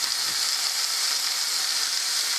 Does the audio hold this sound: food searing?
yes